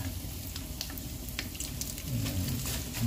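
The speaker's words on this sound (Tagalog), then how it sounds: "Prito tayo ng tuyo mga kabayan." Dried fish (tuyo) frying in hot oil in a home kitchen, a steady close sizzle and crackle with faint pops throughout, no talking.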